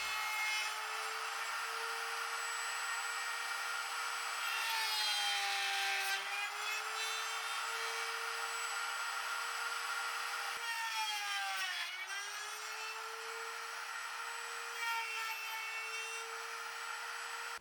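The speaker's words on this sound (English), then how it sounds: "And now I'll just guide the jig along the bushing to route out the tails." A router on a Leigh RTJ400 router table dovetail jig cuts dovetail tails in wood, giving a steady, loud, high motor whine that dips and bends in pitch as the cut loads it, continuous throughout with no talking.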